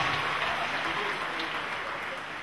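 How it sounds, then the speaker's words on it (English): Steady crowd clapping fills a church healing service, a dense even wash of many hands that holds at the same loudness throughout with no voices standing out. "Clap again for Master Jesus Christ"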